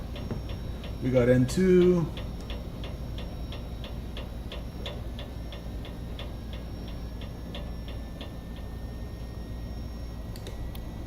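Steady, evenly spaced clicking from an airliner engine igniter runs through the whole clip as engine number 1 starts in a flight simulator, with a constant engine hum underneath and someone speaking briefly near the start.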